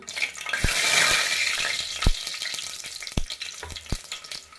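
Mustard seeds sizzle and crackle in hot oil inside a pressure cooker, a soft frying hiss that swells then fades, broken by a few sharp pops and clinks, close and fairly quiet.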